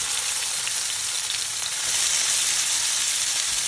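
Lamb chops frying in a pan with little added oil, giving a steady, dense, close sizzle that crackles on without pause and swells slightly toward the end.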